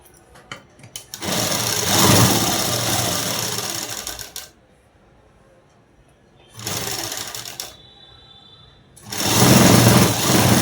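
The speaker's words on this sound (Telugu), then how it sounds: "డబల్ కుట్ అనేది వేసుకోండి." An electric sewing machine stitches a nightdress with a double seam at the shoulders, running in three loud, fast bursts separated by quiet pauses.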